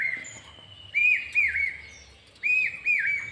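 Young flying-breed pigeon chicks peep in two pairs of thin, high whistled calls, close and distinct against a quiet background.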